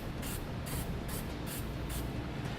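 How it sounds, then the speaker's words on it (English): Short hissing bursts from a spray paint can coating bare metal on a 2017 Jeep Cherokee, about six quick sprays in a steady rhythm, close and fairly loud with no talking. "I'm going to come back with just a little bit of spray paint and touch that up"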